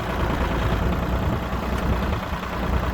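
An ISEKI SIAL17 compact tractor engine idles nearby with a steady, dense low rumble that holds even throughout, no voices over it.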